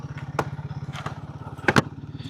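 Royal Enfield Guerrilla 450 motorcycle riding along a Western Ghats road through coffee estate country, a steady rapid engine thrum pulsing evenly throughout, with a few brief louder clattering bursts near the end.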